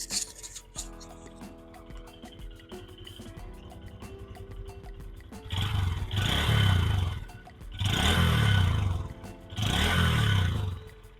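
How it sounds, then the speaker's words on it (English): A 2025 Honda Grom SP motorcycle engine, stock and not yet broken in, is revved three times in loud, rising bursts. Each rev climbs and falls back, and a lighter idle with mechanical ticking comes before them. "But let me rev it up for you here."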